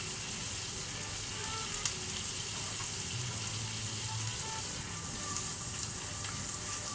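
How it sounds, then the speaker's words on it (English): Food with rosemary sautéing in a pan, giving a steady, moderately loud sizzle and crackle that runs unbroken throughout with no talking. "we're literally going to be sauteing these"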